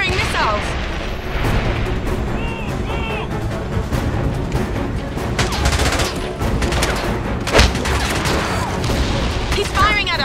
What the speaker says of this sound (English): James, he's firing missiles!